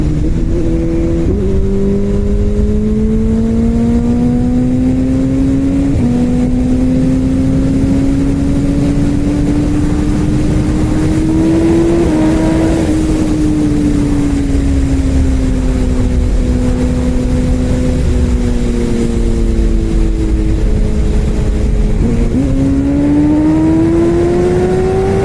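BMW S1000 RR superbike accelerating hard on an open road during a speed test: a loud, close engine whine that climbs steadily and drops briefly at each of several quick gear shifts.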